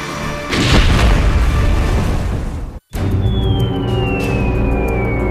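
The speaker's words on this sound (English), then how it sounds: "the blast should create a shockwave powerful enough to destroy it" A test detonation of a dam-busting bomb from 1942 wartime Britain: a loud, sustained booming roar that fills several seconds, cuts out briefly, then resumes as rumbling with a thin descending whistle over it.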